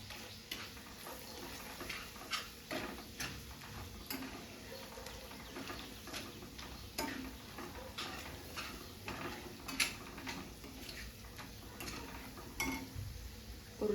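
A spatula stirs and scrapes ground onion-tomato gravy around a pan for a paneer curry, giving soft irregular clicks and taps over a low sizzle, close and quiet throughout.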